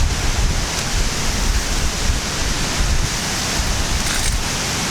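A pot of water on the fire for cooking horse gram seethes at a full rolling boil, a dense, steady bubbling hiss with no pauses, close and fairly loud.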